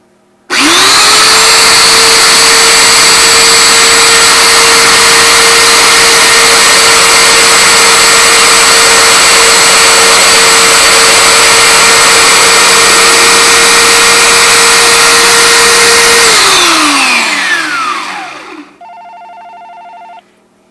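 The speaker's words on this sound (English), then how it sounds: "all we do is we turn the link around and it'll sand it smooth" Power sander smoothing the end of a scrap-wood chain link, a loud continuous whine held for about sixteen seconds before spinning down, followed by a faint tonal beep.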